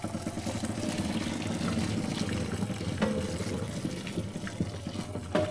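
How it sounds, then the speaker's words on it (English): Boiling water from a kettle poured steadily over meat being rinsed of fat, a continuous close splashing pour with faint trickling, no talking. "Here goes the boiling water."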